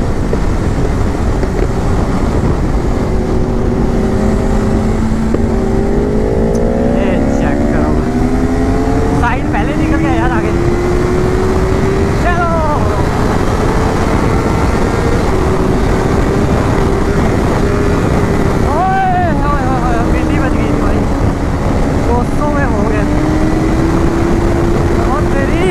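A BMW S1000RR sport motorcycle cruises along a straight road, its engine droning with rising and falling pitch through gear changes while heavy wind noise buffets throughout, and a rider speaks over it.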